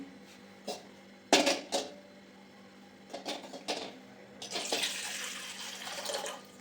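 Tap water runs in uneven bursts and splashes into a sink while raw chicken is washed, with brief clatters of handling between the flows; close and fairly quiet, no talking.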